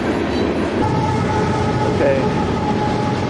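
Train passing close by, a loud steady rumble and rolling wheel noise filling the whole stretch, with a person speaking briefly over it.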